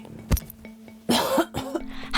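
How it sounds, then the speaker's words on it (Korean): Repeated harsh coughs from a 50-year-old woman with a lung condition who has been coughing through the night, coming in bursts with a throat-clearing quality, close and loud. "기침을 이렇게 자주 하세요?"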